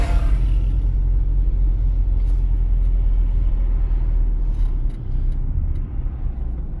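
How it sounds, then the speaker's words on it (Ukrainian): A manual-transmission car rolls at 40 km/h in third gear at about 1600 rpm, its steady low engine and road rumble droning continuously from inside the cabin throughout, with no speech. "Я зараз рухаюсь 40 км на годину, третя передача, у мене механіка, 1600 обертів на хвилину"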